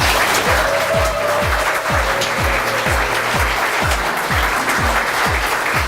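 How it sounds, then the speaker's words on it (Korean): Studio audience applause on a Korean industry broadcast as a company head is invited to a seat, a steady clatter of clapping over a rhythmic, regularly repeating low thump. "박수 부탁드리겠습니다."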